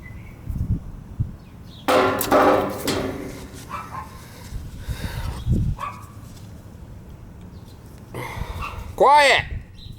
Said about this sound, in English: That's the baby dog.